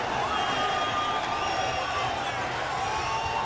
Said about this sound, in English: So we are set in front of an enthusiastic crowd here at the Arco Arena